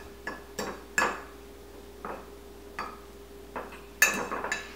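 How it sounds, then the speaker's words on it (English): Whole beans being stirred into seasoning in a pan, with a spoon tapping and clinking against the pan in sparse, irregular knocks over a faint background. "And then we're gonna stir in our whole beans."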